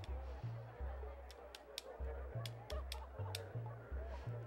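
Lobotomy Chicken meme sound: a rhythmic run of low, honking clucks repeating in a steady beat, loud and close, with sharp higher accents between them.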